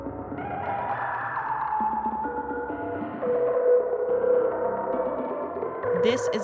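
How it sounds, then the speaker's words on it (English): Strymon Magneto delay pedal carries on with lingering echoes of a stopped sequencer, a steady wash of repeating tones and pitched trails that shift and swell midway, fairly loud with no talk over it. "What you're hearing right now is only Magneto and the delays that remain from our sequence."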